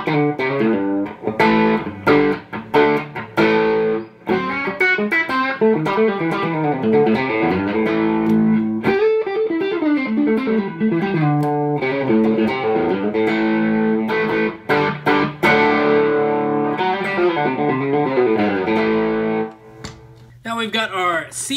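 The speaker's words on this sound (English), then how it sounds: "We have a Fulldrive 2 for our dirty sound." A Telecaster electric guitar played through a Fulldrive 2 overdrive pedal and VOX coiled cable into an amp, gritty driven chords and riffs strummed continuously and loud, close up.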